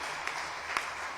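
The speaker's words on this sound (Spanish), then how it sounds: "Les damos un fuerte aplauso nuevamente." An audience applauding expert speakers at a talk, heard as a short, fairly faint and even patter of many hands clapping, with a couple of slightly louder claps.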